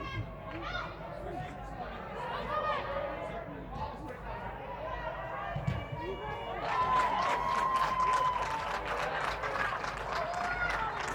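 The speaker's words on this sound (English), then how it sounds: "Nice to actually hear the sounds of people cheering in the dome here" People in an indoor dome at a soccer match cheer and chatter, a moderate crowd swell with scattered shouts and whistles, building louder near the end, with a commentator talking over it.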